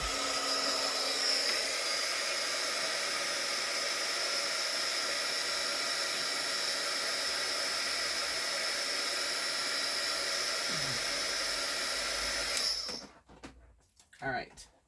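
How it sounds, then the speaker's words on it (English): A heat gun blows steadily for about twelve seconds, a loud close whooshing roar, then cuts off, leaving a few small clicks and handling noises. "you guys are going to hear the gun going off, the heat gun"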